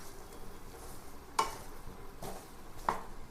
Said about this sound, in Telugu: ఇప్పుడు మనం వేసుకున్న ఆలుగడ్డల్ని మంచిగా ఒకసారి మసాలా పట్టేలాగా కలుపుకోండి